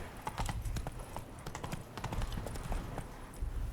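Horse hooves galloping in The Witcher 3: Blood and Wine, a fast, close run of sharp clip-clop beats that keeps an uneven steady rhythm throughout, heard alone without speech.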